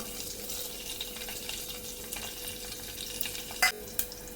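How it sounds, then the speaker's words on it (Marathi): Mustard seeds, cumin, asafoetida and dried red chillies frying in hot oil for a tempering, a steady soft sizzle with faint crackles and two brief sharper pops near the end, no voices. "मोहरी चांगली फुटली की जिरं घालायचे साईडने हिंग घालायचे आणि यामध्ये मी लाल मिरच्या पण घेतलेल्या आहेत"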